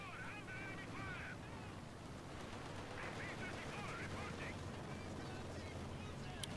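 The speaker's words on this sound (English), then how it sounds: "Katyusha barrage doesn't really seem like it's doing all that much damage" Continuous dense rumble of distant explosions and crackling gunfire from a Katyusha rocket barrage in the World War II strategy game Company of Heroes 2, steady and unbroken throughout, with faint chirping game effects near the start.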